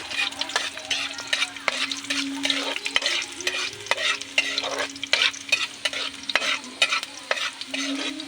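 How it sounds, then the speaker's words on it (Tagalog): Garlic fries in a pan for chicken neck, with constant sizzling under brisk, repeated scraping strokes of a spatula, close and loud, no talking. "Ilalagay po natin ang bawang. Haluin muna natin."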